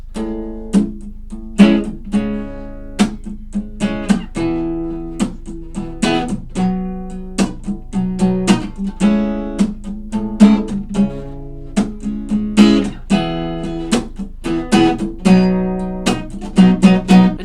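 A guitar plays a sequence of chords with picked and strummed notes, moving through several changes in an unhurried, loose rhythm, no voices.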